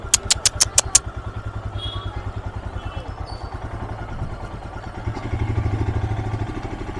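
A motorcycle engine idles and revs near a hill-town market while its rider looks for parking, a close, rapid thumping exhaust beat that swells louder toward the end.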